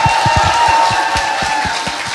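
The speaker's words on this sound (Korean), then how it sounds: "자, 박수 부탁드립니다." Audience applause during a recorded talk show, a steady crowd of hands clapping loudly, with occasional low thumps scattered through the continuous patter.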